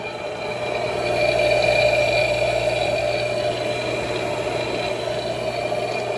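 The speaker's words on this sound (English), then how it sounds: "Motor's running pretty smoothly." A vintage barn-find pressure washer motor runs steadily at close range, a smooth, continuous hum with a faint rattling vibration, loud and unbroken with no talking over it.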